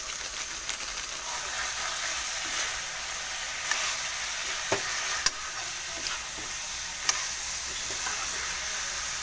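Banana stem and pork curry cooking in a pan with the gas flame turned up, a steady loud sizzle and hiss with occasional sharp scrapes and clinks of stirring, heard up close without talk.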